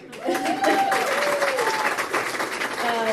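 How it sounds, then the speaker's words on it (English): Sustained applause from an audience, steady and fairly loud for the whole stretch, with a few voices faintly audible beneath it. "Are we going to applaud again?"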